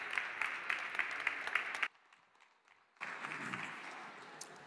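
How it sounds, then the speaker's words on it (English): Audience applause fills a conference hall at the World for Ukraine Summit as award presenters come on stage: steady, dense clapping, a brief near-silent pause, then a second burst of applause. "So please join me and a big round of applause."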